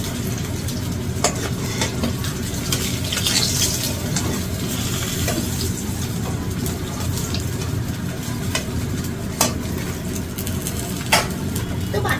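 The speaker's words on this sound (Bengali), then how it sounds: "তো বাকি মাছগুলো কিন্তু আমি এইভাবেই ভেজে নেব।" Pieces of katla fish fry in hot oil, giving a steady close sizzle throughout, with occasional sharp clicks and taps from a utensil against the pan.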